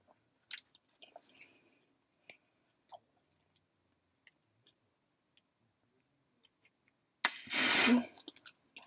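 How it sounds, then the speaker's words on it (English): Gum is chewed close to the mic in soft, sparse clicks and smacks spread through a quiet room, followed by one louder, longer crackling burst near the end. "I've been chewing this for too long."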